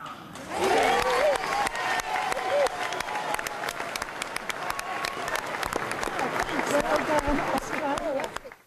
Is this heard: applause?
yes